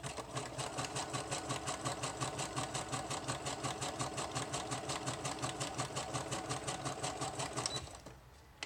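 A sewing machine runs a steady, rapid zigzag stitch, sewing ribbon edging onto the edge of a packing-paper journal wrap; the even mechanical rhythm continues close and loud for about eight seconds before stopping.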